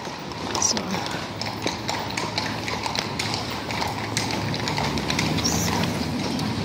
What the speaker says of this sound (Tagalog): Nakasalubong natin ang mga kabayo.